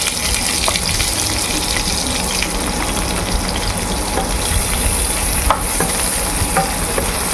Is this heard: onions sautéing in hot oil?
yes